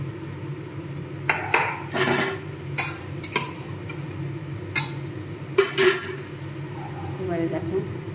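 Fried paneer pieces go into a cauliflower and potato curry in a pan. A spoon clatters and scrapes against the metal in bursts over a low simmer, while a voice talks.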